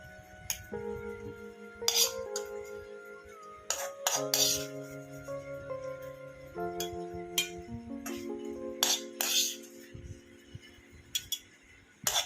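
Clinks and clatters as cooled ingredients for banana flower chutney are tipped and spooned into a grinder jar, a string of sharp metallic taps with a soft melodic tune playing behind them.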